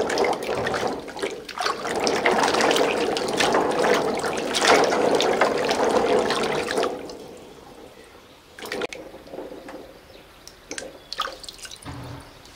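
Freshly harvested ume plums are washed in water, with loud splashing and running water for several seconds, then quieter drips and small sloshes.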